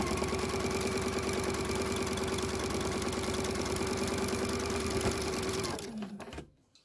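A sewing machine stitches quilt pieces on a quarter-inch presser foot, a fast steady mechanical whir that runs close and continuous, then slows and stops near the end.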